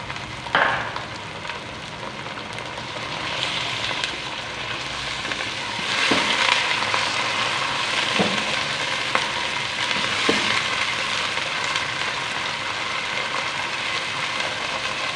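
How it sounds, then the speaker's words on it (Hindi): Minced meat (keema) frying with golden onions in a pan for an aloo keema curry: a steady, close sizzle that swells midway, broken by a few sharp scraping stirs of the spoon, with no talking. "और कीमे का कलर चेंज होने तक भुनाई करेंगे।"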